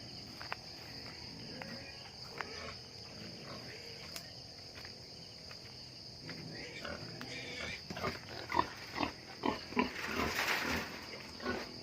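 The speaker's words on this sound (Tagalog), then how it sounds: "Punta tayo sa mga baboy." Pigs grunt in their pen on a farm in Tiaong, Quezon, with soft snorts growing louder and more frequent toward the end over a steady hum of crickets and insects.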